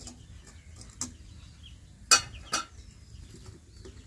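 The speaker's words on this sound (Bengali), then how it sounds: "এবার এখানে একটা স্ট্যান্ড বসিয়ে দিচ্ছি।" A metal stand is set down into a pan of heated sand while an eggless semolina cake is being prepared, giving two sharp metallic clanks close by, one following the other after a short gap, over a quiet background.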